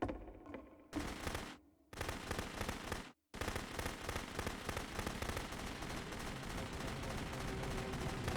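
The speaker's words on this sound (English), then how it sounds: "you can click to fire the gun" Rapid gunfire from a weapon in The Beginner's Guide game, dense loud bursts with two brief gaps, the shots rattling continuously like an automatic gun.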